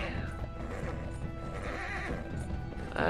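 A horse in Red Dead Redemption 2 whinnies amid clopping hooves and busy game ambience, fairly close, with a louder snort or neigh near the end.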